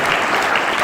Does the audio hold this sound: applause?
yes